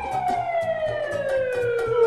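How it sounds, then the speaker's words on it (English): A wailing emergency siren sweeps steadily downward, loud and close, with a rhythmic low pulsing underneath. "Oh! An ambulance!"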